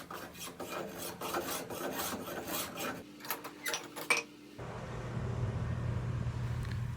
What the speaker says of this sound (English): I'm going to use my hand plane to quickly round over the corners and clean up the rough surfaces